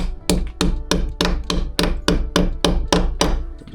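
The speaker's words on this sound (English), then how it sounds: "we got our small little trusty hammer here" A small hammer driving wall anchors into brick, ten sharp evenly spaced strikes in a steady rhythm, close and loud.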